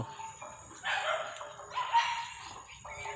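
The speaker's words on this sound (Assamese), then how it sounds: "এই কুকুৰকেইটা ভুকি আছে" Dogs bark in short bursts at a distance at Mahesh Dham temple in Assam, a few sharp yaps spaced out over a steady background hum.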